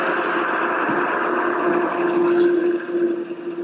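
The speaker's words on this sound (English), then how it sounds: "So it's best to have this blending while you pour it." A kitchen blender whirs steadily mixing milk and flour for German oven pancake batter, a continuous motor drone with a rising whine as the mix thickens, no talking.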